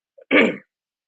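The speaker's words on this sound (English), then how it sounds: "The reason I'm coughing, only reason I'm coughing today is because I was cleaning and stuff and dust all over the place." A single short throat clearing with a brief cough, blamed on dust from cleaning, sounding close and fairly loud and fading within about half a second.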